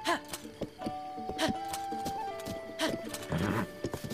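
A horse in a video game neighs and whinnies over a clip-clop of hooves, with repeated tonal calls and bursts of sound over a bed of musical tones, and a voice talks briefly over it.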